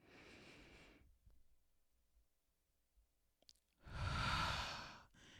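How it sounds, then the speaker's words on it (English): A person draws a deep, audible breath in through the nose, then after a quiet pause lets out a long, loud breathy exhale, close to the microphone, followed by a short further breath. "take a deep breath in through your nostrils"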